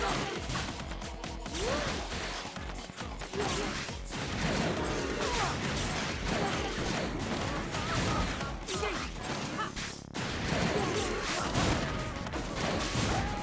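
Continuous game combat in the fighting game ARMS, with repeated bursts, crashes and impacts from grenade-like projectiles hitting hard and fast, loud and busy throughout, with occasional voice underneath.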